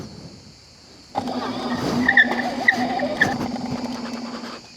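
A sudden steady high-pitched motor whine kicks in and holds as a Dualtron X Limited electric scooter accelerates at full throttle, with squealing tire chirps and rattling over it, close to the recorder.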